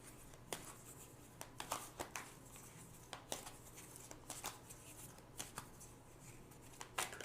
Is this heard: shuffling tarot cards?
yes